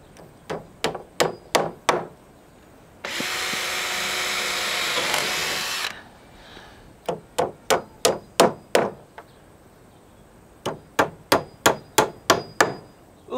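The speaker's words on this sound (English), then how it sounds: "and then I'm just gonna nail it on by hand." Sharp hammer blows drive a nail by hand through a metal strap while building a pergola, in quick bursts of five or six, broken by a few seconds of steady, high-pitched drilling whir.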